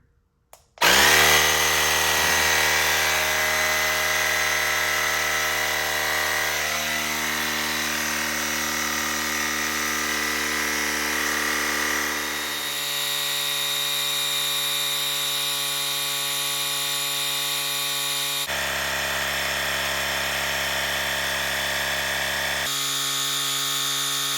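A LASFIT AIR cordless compact air compressor starts abruptly and runs as a loud, steady high-pitched motor whine, its pitch shifting a few times over about twenty seconds of continuous operation.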